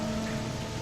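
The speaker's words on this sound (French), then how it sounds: "Là, il pleut maintenant." Rain in the video game Amnesia: The Dark Descent forms a steady, dense hiss with a low hum beneath, continuous and fairly quiet.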